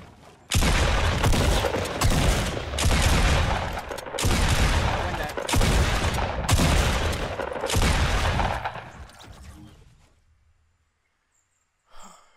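Rapid automatic gunfire in the video game Fortnite, loud sustained bursts separated by brief pauses, then trailing into near silence before a short final sound.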